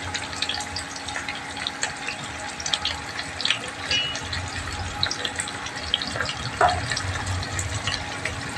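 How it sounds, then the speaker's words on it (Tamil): Onions sautéing in hot oil for chicken curry, a dense continuous sizzle at close range with small pops and crackles, no one talking. "எண்ணெய் சூடானதுக்கப்புறம் நம்ம இப்போ வெங்காயத்தை வதக்கிக்கிறோம்"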